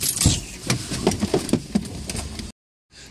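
Car keys jangle and clink close up in several quick metallic bursts, then cut off abruptly into brief silence.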